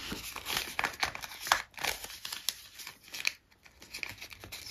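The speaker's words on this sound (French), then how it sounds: "on continue à remplir ces enveloppes" Paper envelopes are filled with banknotes at close range, with busy crinkling, rustling and sliding paper sounds in short bursts and brief pauses.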